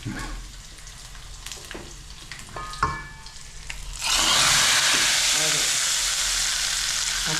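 Chicken pieces hit a hot pan and burst into a loud, steady frying sizzle that fills the second half, after a stretch of quieter clinks and stirring.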